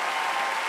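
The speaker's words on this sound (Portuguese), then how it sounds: "Dê a Ele uma salva de palmas forte" A church congregation gives a brief burst of loud, dense applause during a sermon, continuous clapping from many hands.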